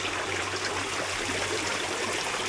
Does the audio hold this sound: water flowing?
yes